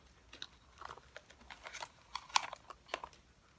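A dog licks and nibbles at plastic packaging close by, producing faint, irregular crinkling and wet clicking bursts in a quiet room.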